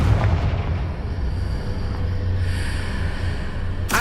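In Hogwarts Legacy, the Confringo explosive spell produces a heavy, rumbling burst with a deep body that holds steady for a few seconds before a sharp crack right at the end.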